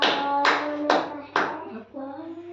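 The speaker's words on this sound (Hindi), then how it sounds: "ताली बजाओ" Children clap their hands in a few separate, evenly spaced bursts, close and fairly loud, with young voices sounding between and over the claps.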